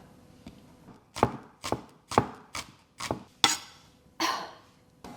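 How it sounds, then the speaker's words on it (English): A knife dices a shallot finely on a board for mushroom risotto, giving about nine crisp chopping strokes in a loose rhythm, close and fairly loud, with no talking. "Now I'm going to slice my shallot. Dice it finely."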